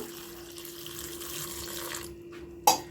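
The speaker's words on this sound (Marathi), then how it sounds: "याच्यात थोडं पाणी ओतून घेऊ" Water pours steadily into a pan for about two seconds while peas are cooked for bread rolls, then stops, followed by a single sharp clink of metal.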